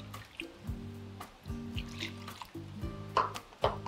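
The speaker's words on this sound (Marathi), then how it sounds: "तर यामध्ये 1 कप पाणी घालायचं" A cup of water poured into a recipe mixture meant to be thinned with buttermilk, heard as a close splashing, trickling pour with drips and a couple of sharp clinks near the end.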